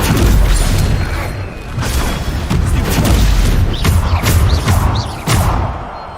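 Loud booming blasts from the Bombarda spell in the Hogwarts Legacy game, several heavy explosions in quick succession with crashing debris and rumbling low thuds, close and dense.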